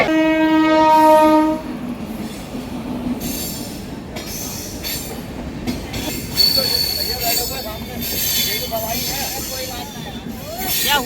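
Train rolling through a railway crossing where an e-rickshaw has got stuck, opening with a loud horn blast, then steady squealing wheels and rumbling cars passing close by, with faint voices in the background.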